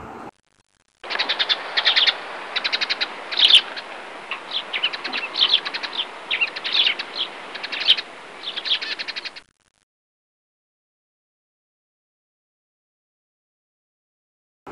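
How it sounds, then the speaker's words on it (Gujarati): A bird sings a long run of chirps and calls in quick, repeated bursts for about eight seconds, close and clear, then stops into silence. "હવે આવશે પક્ષીઓના અવાજ."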